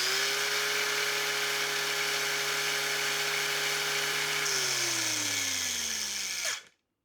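A Parkside PWSAP 20 Li C3 cordless angle grinder runs near and loud with a steady high whine, then the motor winds down and cuts off near the end, leaving silence.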